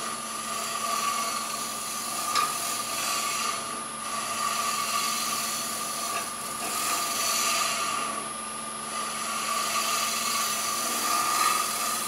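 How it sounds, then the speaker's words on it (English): A negative rake scraper shears wood on a lathe while turning a kuksa cup, a steady whirring hum of the spinning lathe with a soft scraping rasp that swells and fades in waves, close and continuous. "I'm going to go ahead and use this negative rake scraper."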